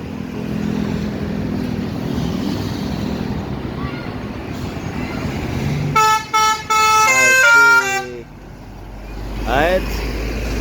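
A tour bus sounds its Basuri telolet horn on a road near a tunnel, a loud, bright multi-tone melodic honk played in quick bursts over traffic rumble, with a voice talking nearby.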